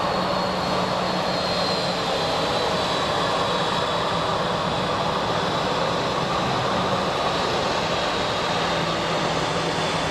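A jet engine roars loud and steady as an airplane takes off from Phoenix Sky Harbor International Airport, powering down the runway and climbing, a broad sustained rumble with no pauses.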